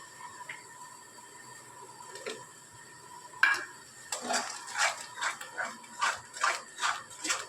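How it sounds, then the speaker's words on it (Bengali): Vegetables and sour curd are stirred in a pan for a mixed-veg dish: a spoon scrapes in a steady rhythm of close, repeated scrapes and clinks, with a quieter stretch first and a sizzle underneath, and no talk. "টক দই দিয়ে কিন্তু আমরা খুব ভালো করে এটাকে নেড়ে দিচ্ছি"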